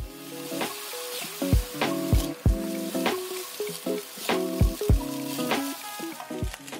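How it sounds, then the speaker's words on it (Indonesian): Rice is stir-fried with curry in a hot pan, a loud continuous sizzle broken by repeated metallic scrapes and knocks of the spatula against the pan in an uneven rhythm, with no talk. "Masukin nasi sebanyak 300 gram. Terus kita aduk-aduk sebentar."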